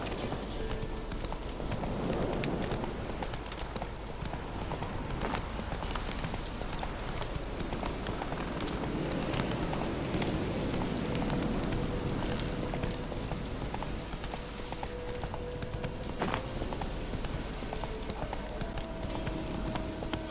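Hooves of a horse galloping in The Witcher 3 beat in a steady, rapid clip-clop throughout, close and fairly loud, with faint game ambience beneath.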